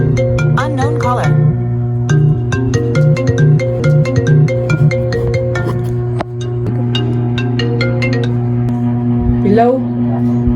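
A mobile phone rings with a bright melodic ringtone, repeating tones running continuously and loud at close range, with brief speech near the end.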